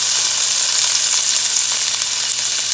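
Butter, two tablespoons' worth, melting and sizzling in a hot pan for creamy chicken Dijon, a steady, close frying hiss with no voices.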